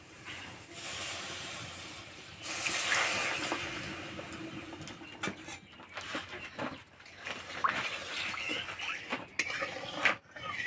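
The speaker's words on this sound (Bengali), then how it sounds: "এই গুড়ের রসটা ভালো করে জাল দিয়ে নেব" Jaggery melting with water in a wok, a steady hiss and faint simmering sizzle running throughout, with occasional clinks of a utensil stirring the pot.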